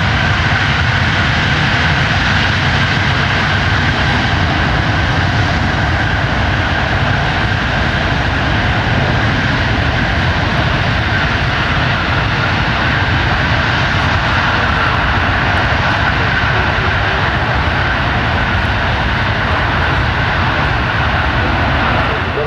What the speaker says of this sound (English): the ability to routinely back up under its own power.